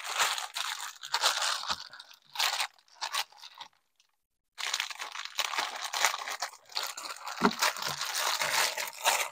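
Cutting a corner of foam insulation for a cooler in a van, close crunchy crinkling and tearing in irregular bursts with a brief silent pause midway.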